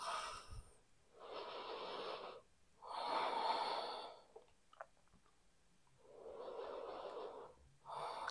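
Deep yoga breaths taken while holding the peaceful warrior pose in a beginner session: slow, audible inhales and exhales alternate in long, even, close-up swells separated by short pauses.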